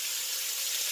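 Sliced pork sizzles steadily in a pan as its fat renders out, a close, constant hiss of frying with no voices.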